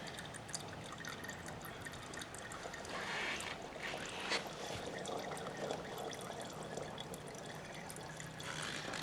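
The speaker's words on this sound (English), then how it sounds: "so here comes more oil. And this is how you get the last bit of oil out of it." Motor oil drains from a Honda CBR125 motorcycle engine during an oil change, a faint continuous trickle with soft drips and splashes into a container, steady throughout with no voices.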